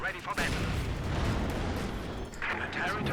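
A Panzer IV tank fires its main gun in Company of Heroes 2 multiplayer, a deep booming blast that rumbles on under a commentator's voice.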